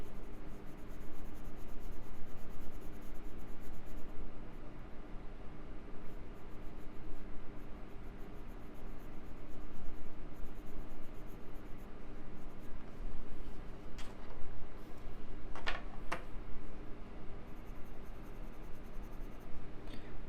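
Colored pencil is worked over paper with carmine layered on top of earlier colors, a continuous close scratchy shading sound with steady strokes and a few brief taps, and no talking.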